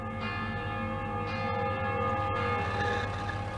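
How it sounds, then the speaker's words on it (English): Church bells from the villages of Viviers, Mondol, Carfontaine and Baguère-Morvan toll in the distance, faint sustained metallic tones with ringing overtones and fresh strikes, and no voices. "In the distance, we can hear the bells of Viviers, Mondol, Carfontaine, and Baguère-Morvan."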